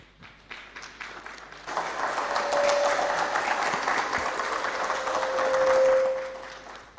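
Sustained applause from a sizable conference audience after a presidential address swells after a brief quiet start, holding steady for several seconds before tapering off.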